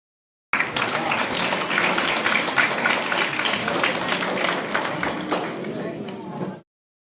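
An audience applauds at a school Republic Day event, a dense, steady wash of many hands clapping for about six seconds before it stops abruptly.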